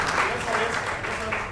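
An audience at a poetry award event claps in a moderate, sustained round of applause, mixed with a voice speaking over it.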